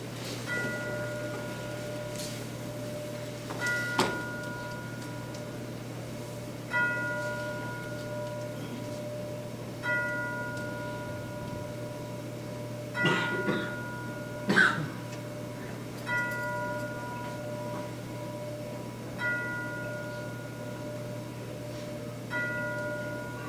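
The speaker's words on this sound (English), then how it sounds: "At this time, you will hear the tolling of 11 chimes." Tolling of eleven chimes at an Elks lodge 150th anniversary ceremony, a soft bell-like tone struck at slow, even intervals, moderately quiet over a steady low hum and faint room noise, with occasional coughs.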